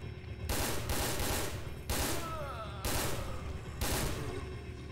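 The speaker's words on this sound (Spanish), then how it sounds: "Menuda ametralladora, se gasta" Bursts of machine gun fire in the video game Resident Evil Dead Aim, four loud sustained volleys separated by short pauses, with a ringing whine between them and no talk.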